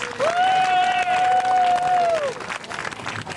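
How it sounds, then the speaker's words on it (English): Audience applause at a folk festival fills the space, with a long, shrill whistle held for about two seconds over the clapping before the crowd noise tapers. "Can we have another applause for our stage manager, Pliny Stevens, please?"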